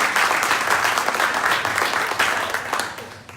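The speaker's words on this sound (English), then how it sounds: "Round of applause, please" Warm, steady applause from a morning audience at a 1 Million Cups startup pitch event in Daytona Beach, fairly close and loud, holding for several seconds.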